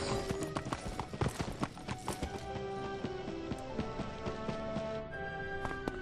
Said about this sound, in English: I'll follow that horse.